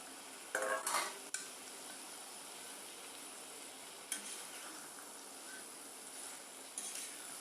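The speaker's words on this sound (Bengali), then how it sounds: "এখন আমি লতাগুলিকে দিয়ে দিচ্ছি।" Taro stolons are stirred into mustard paste in a pan, with a faint low sizzle and a few scraping clatters of a utensil against the pan at the start and scattered later.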